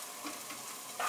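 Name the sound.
onions frying in a pan over very high heat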